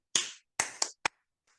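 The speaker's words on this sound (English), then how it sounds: "Clap what I clap. So the teacher does a rhythm" A teacher claps a short rhythm for children to copy in a listening game: four sharp, close hand claps, spaced unevenly with a quicker pair in the middle, then a faint fifth tap.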